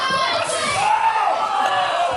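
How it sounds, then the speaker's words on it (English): A pumped-up crowd at a DWA wrestling match cheers and shouts steadily, a dense, loud wall of voices with rising whoops, continuous throughout. "The DWA crowd are pumped for this one."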